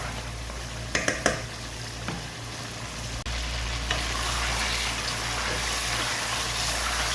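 Chicken tikka pieces coated in masala sizzle and fry in a karahi, a steady loud crackling hiss throughout with a few sharp clanks of a spoon stirring near the start.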